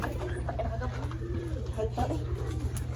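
Racing pigeons coo softly near a loft during a 139 km derby arrival, low repeated coos over a steady background hum with voices talking nearby.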